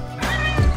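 A single close meow from a male pet cat indoors, a short rising and falling cry lasting about half a second, clear and fairly loud with no talking over it.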